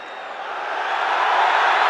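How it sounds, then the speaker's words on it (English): A stadium crowd at an AFC Champions League group match between Ahal FC and Al Fayha FC sends up a steady, dense roar that swells gradually louder, with no distinct claps or chants. "Certainly crowd are right up for this, creating a terrific atmosphere here."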